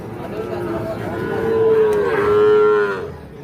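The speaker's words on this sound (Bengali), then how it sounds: "তো দেখছেন এগুলো সব কিন্তু ষাঁড় বাচ্চা।" Young bull calves about three months old at the Ambari cattle market: one long, close, rising-and-falling moo swells over a steady murmur of market noise.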